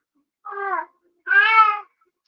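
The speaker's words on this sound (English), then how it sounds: "Do you have a cat in heat?" A cat in heat yowling: two close, drawn-out meowing cries, the second longer and louder, with silence between them.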